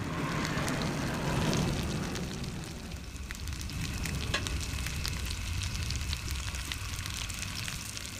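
Ginger, onion and fried tuna sizzle in a pan for ginataang tulingan, a steady close frying hiss that swells briefly near the start and then holds evenly throughout, with no voices.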